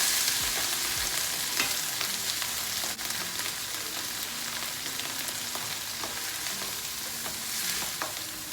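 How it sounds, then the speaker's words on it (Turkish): Onions with red and green peppers fry in a mix of butter and oil, a steady close sizzle with occasional clicks of stirring and utensil taps throughout, no voices. "Biraz tereyağında, biraz yağda soğanları kavurdum. Kırmızı biberle yeşil biber de kavrulsun."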